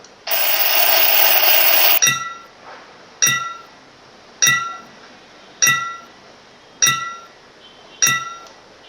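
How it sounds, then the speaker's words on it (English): Six sharp, evenly spaced clinks of a gavel striking a glass ball ring out in a puzzle video game, each strike leaving a brief bright ringing tail, preceded by a steady hiss. "I could hear 6 times the gavel being used on one of the objects here"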